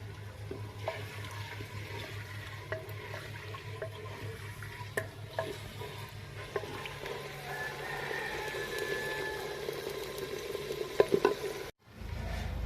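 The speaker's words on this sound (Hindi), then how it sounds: "अब हमने चिकन को अच्छे से फ्राई कर लेना है" Chicken frying in a pan in a village kitchen, a low steady sizzle with occasional stirring clicks, ending in a brief cut-off before the sound resumes.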